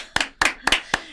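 Four sharp, evenly spaced claps ring out close and clear from a small group of people, each burst short with a brief decay between.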